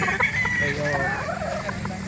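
Hens cluck and fowl call at a busy chicken market in Calauan, Laguna. The clucking is steady and fairly loud, with people talking and bargaining underneath.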